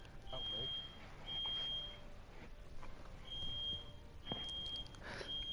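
A fire alarm sounds at home in repeated high, piercing beeps of even length, running under a sim racing game broadcast with engine noise. It is moderately loud and stays in the background.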